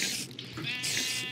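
A sheep bleats in a Minecraft-style game, a short wavering nasal cry heard close and moderately loud, with a brief second bleat following after a small dip.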